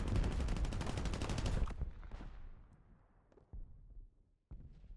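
Rapid machine gun fire in War Thunder, a dense loud burst of rounds lasting over a second, then fading with a few scattered distant shots and thuds.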